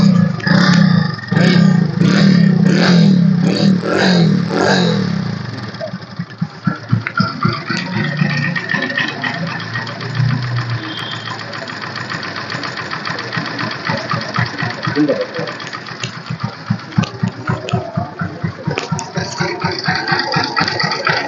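A used Bajaj Crux motorcycle with a new tyre and a good self-starter is started, then its engine idles with a loud, rattly, knocking chug that steadies into a rhythmic putter close by.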